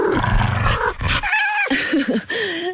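A dog growls and snarls loudly in a television advertisement for the 2018 Toyota RAV4, the rough growl mixed with music and a voiceover.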